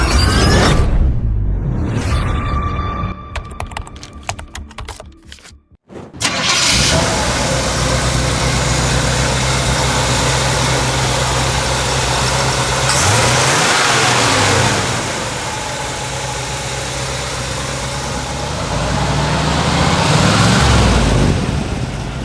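A 1963 Chevrolet C10 pickup truck engine starts after a few clicks, settles into a steady rumbling idle, then revs up loudly several times, close by.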